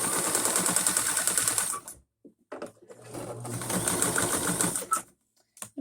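A newly bought electric sewing machine stitches a pillow in two bursts of fast, buzzing mechanical running, loud and close, stopping briefly between runs and ending with short stop-start taps.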